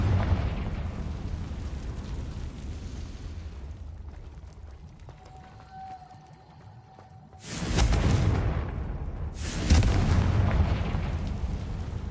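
Confringo blasting curse explosions in the Hogwarts Legacy video game: a deep, rumbling roar that fades, a lull with a thin ringing tone, then two loud, close blasts in quick succession.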